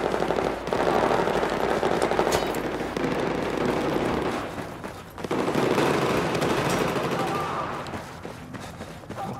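Gunfire in the shooting video game Gun Master, a dense, continuous rattle of rapid shots and bursts filling the scene, loud and close, with a short lull midway before the firing resumes.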